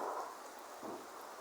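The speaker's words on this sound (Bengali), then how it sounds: "দেখছেন আমরা অনেক বৃষ্টি নামছে। এই যে দেখেন অনেক বৃষ্টি" Heavy rain falls steadily around a house, a dense, even hiss that stays loud through the short stretch with a slight swell near the start and again later, with no voices.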